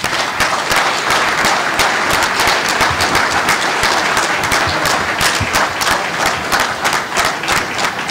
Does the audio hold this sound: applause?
yes